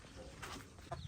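A village hen gives a couple of short, quiet clucks near the end of a brief, faint moment.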